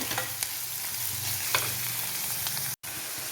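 Onions frying in oil with ginger and garlic for a chicken curry, a steady close sizzle with occasional stirring scrapes, cut by a brief silent gap near the end.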